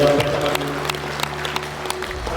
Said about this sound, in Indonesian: Tepuk tangan untuk SPPP ini.